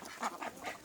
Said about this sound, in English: You silly ducks.